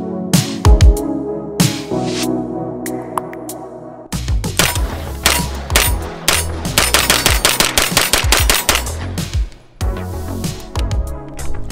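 Rapid pistol shots ring out from a cheap handgun as the first magazine is emptied at a range, loud sharp cracks in quick irregular strings with brief pauses between bursts.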